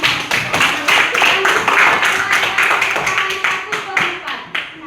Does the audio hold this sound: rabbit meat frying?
no